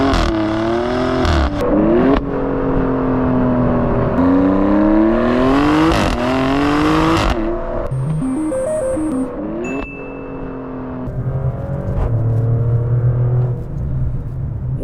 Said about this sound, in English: What you're listening to is a twin turbocharged 3-liter V6, but not just any V6, the same V6 you find in the Maserati MC20